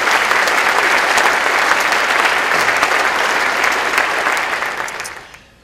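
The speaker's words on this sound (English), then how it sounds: "Would you give them all a big round of applause" A big round of audience applause at a conference session, loud and evenly dense clapping from a large crowd, holding steady before tapering off and fading out at the close.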